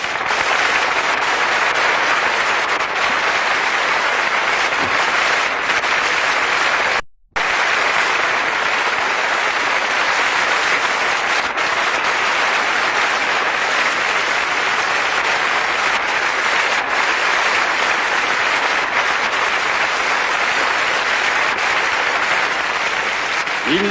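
A theatre audience at a 1990 tribute gives a long, sustained ovation for Serge Gainsbourg, thick continuous clapping filling the hall with only a brief break partway through.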